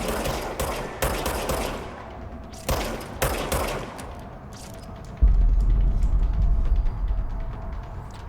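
Service pistol fire in a video game, several sharp separate shots spaced about a second apart, each with a short ringing tail, followed by a lower rumbling hum.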